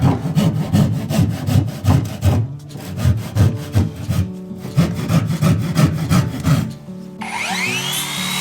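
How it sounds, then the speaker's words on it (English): A hand saw cuts through a wooden ledger board during a floor renovation in a 40-year-old Japanese house, with steady rhythmic rasping strokes close up, then stopping as faint piano drifts in from another floor. "Partially cut off the ledger board while keeping the lengths."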